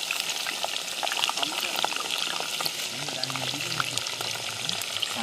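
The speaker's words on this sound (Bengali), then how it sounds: "একে এবার আমরা সুন্দর করে ভাজবো আলুটাকে।" A large batch of potatoes, about 1.6 kilos, fries in oil and is stirred, producing dense crackling and spitting with scattered sharp pops, steady and close throughout.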